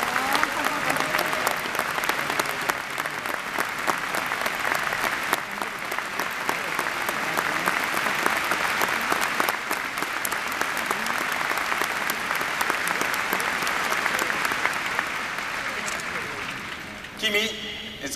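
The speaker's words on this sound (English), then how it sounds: "Give her an enormous applause." A large concert arena audience in Santiago de Chile applauds a singer from Cape Town with long, dense, steady clapping and some cheering, continuing unbroken for many seconds before tapering at the very end.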